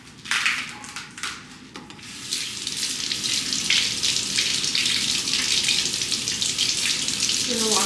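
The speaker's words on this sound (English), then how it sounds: "So now I'm going to wash some celery and then cut that." Celery is rinsed under a running kitchen tap, a steady close splashing hiss of water broken by a few brief bursts of handling at the start, with no talking over it.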